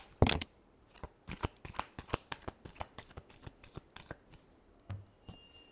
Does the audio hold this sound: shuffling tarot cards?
yes